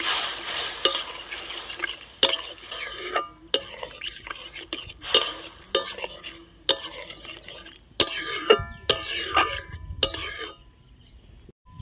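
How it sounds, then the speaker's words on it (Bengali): Taro curry in a pan, stirred with a metal spatula after water is added, with repeated sharp scrapes and clanks over a soft simmering sizzle, no speech. "জলটা দিয়ে ভালো করে নাড়াচাড়া করে নিয়েছি"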